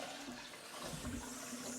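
A toilet flushing after a flush valve repair: a continuous rushing, gurgling swirl of water, close and fairly loud, with no talk.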